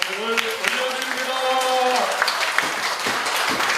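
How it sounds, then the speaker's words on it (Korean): A church congregation at a pastor's inauguration ceremony applauds, a voice holding a sustained sung or spoken tone over the first two seconds before scattered, steady clapping carries on through the room. "우리 하나님 아버지께 영광의 박수를 올려드립니다."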